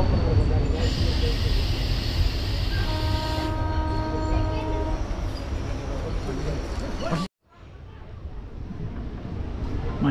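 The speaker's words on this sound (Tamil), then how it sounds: "பொன்மலை அப்படிங்கிற ஸ்டேஷனில் இருந்து நம்ம ட்ரெயின் டிபார்ட் ஆகி போயிட்டு இருக்கோங்க." A DEMU passenger train pulls away from a station on the Tiruchirapalli–Karaikal line, its steady low rumble and wheel noise filling the carriage with a few tonal whines, before a brief sharp cutout and resumed running noise.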